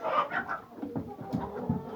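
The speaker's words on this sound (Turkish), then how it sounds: "Yeni tavuk aldık." Several chickens cluck and murmur in short, soft bursts close by, a quiet irregular chatter of poultry.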